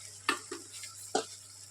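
Spoon scraping a pan of loitta fish cooking in its juices, three short close clinks over a faint steady simmering hiss.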